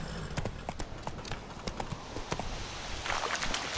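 Roach, a horse in The Witcher 3, gallops with a steady run of hoof clip-clops over continuous game ambience, fairly close and moderately loud.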